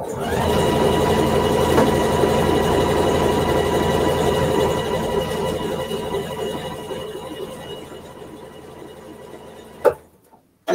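A freshly serviced sewing machine stitching a strap for a plastic bag corral, running in a loud, smooth, steady whir for about nine seconds before stopping, followed by a sharp click.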